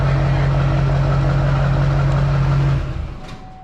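A straight-piped 454 big block V8 idles loud and close with a deep, steady rumble, then cuts off and fades near the end.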